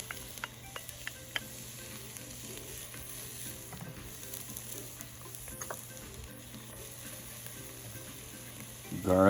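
Onions, peppers and chilies fry in about two teaspoons of oil for a Guyanese lamb stew, giving a soft, steady sizzle with scattered ticks and stirring clicks, and a louder burst of handling noise at the very end.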